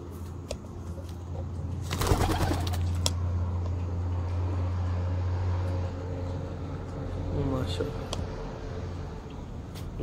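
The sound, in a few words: flying pigeons cooing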